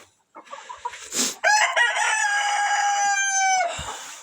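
A newly arrived rooster in a backyard poultry yard crows loudly and close by in one long drawn-out call, preceded by a few short clucks from chickens, with no one speaking.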